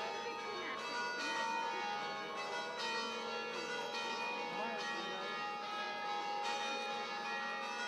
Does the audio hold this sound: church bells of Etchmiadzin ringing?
yes